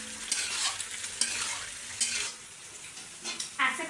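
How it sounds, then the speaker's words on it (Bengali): Spice paste is stirred and fried in a pan while cooking koi fish with cauliflower, giving a close sizzle with repeated scraping strokes of a utensil against the pan and no talk. "এই যে মশলাটা ভালো করে কষিয়ে দিলাম।"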